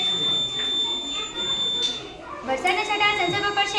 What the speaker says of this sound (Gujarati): લાઇટ પણ ચાલુ થઈ જશે અને અલાર્મ પણ ચાલુ થઈ જશે